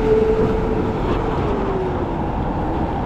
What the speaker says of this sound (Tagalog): Yan, so ayun po, kasabayan natin ng MRT.